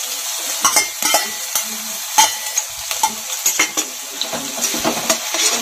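Crushed garlic and five chilies fry in a pan with a crisp sizzle, broken by sharp spatula clanks and scrapes against the metal at irregular intervals, close and fairly loud, with no talking.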